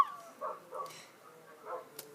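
Dogs in the Minecraft video game give a few short, soft barks and yips at a moderate distance, spaced irregularly over a quiet background.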